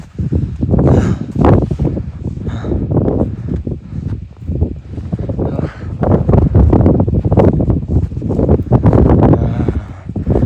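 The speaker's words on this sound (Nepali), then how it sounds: "हावा डेन्जर चलिरहेको छ" Strong wind gusts hit the microphone on a snowy mountainside at Durlekh in Myagdi, loud buffeting bursts that rise and fall unevenly throughout.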